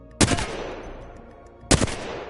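Two sharp, loud Flatline rifle gunshots from Apex Legends ring out about a second and a half apart, each a single crack followed by a short decaying tail.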